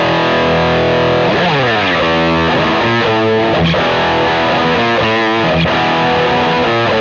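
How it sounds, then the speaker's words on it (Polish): Nylon-string Ortega Tour Player guitar run through Quad Cortex distortion, playing loud overdriven chords and sliding notes with a thick, saturated, sustained tone throughout, no voices. "czas podłączyć Ortegę do Quad Cortexa i zobaczyć, jak to gada na przesterze."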